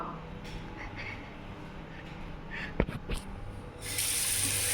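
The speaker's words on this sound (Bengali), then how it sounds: "এখানে আমি এখানে পানিটা ভর ভরুক" A kitchen tap begins to run after a few clatters of dishes, and water gushes steadily into a container for the last second or so, with no one speaking.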